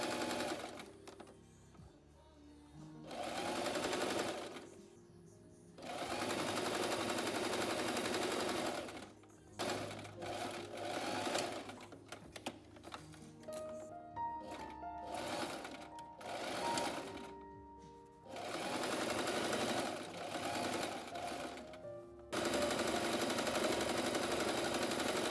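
A sewing machine stitches the hem and armholes of an A-line summer dress in bursts of rapid mechanical whirring, separated by short pauses and quieter handling noises.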